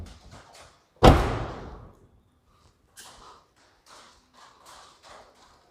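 A Daihatsu Sigra 1.0 M car door is pulled shut by its handle, giving one loud, close slam followed by a fading resonance, with a few faint taps and light handling noises afterward.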